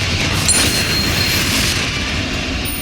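A Confringo fire spell explodes in a tomb in Hogwarts Legacy, a loud, deep rumbling blast that rolls continuously without a pause.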